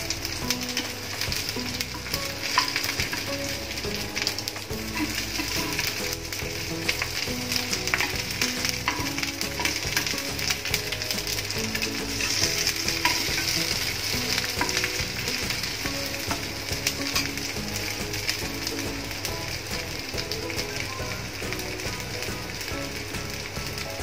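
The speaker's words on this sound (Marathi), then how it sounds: "इथे आपण आता वड्या ह्या शॅलो फ्राय करून घेऊ." Taro leaf rolls layered with spiced gram flour shallow frying in a pan, a steady, dense sizzle and crackle running unbroken for the whole stretch with no voices.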